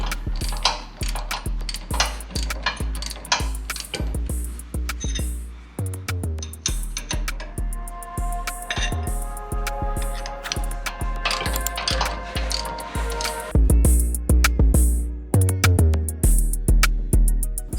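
A ratchet wrench with a 14 mm socket works a rear sway bar endlink bolt on an 80 Series Toyota Land Cruiser, giving close, rapid ratcheting clicks in bursts with short pauses.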